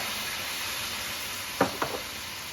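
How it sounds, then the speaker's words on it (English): White wine hits a hot pan of browned Italian sausage, giving a soft steady sizzling hiss with a few short louder scrapes or splashes near the end. "now we're going to add a little bit of white wine to deglaze the pan"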